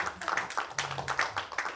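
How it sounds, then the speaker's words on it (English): A small panel audience gives a short round of light clapping, a quick run of distinct, fairly close hand claps with no talk over them. "Round of applause as well"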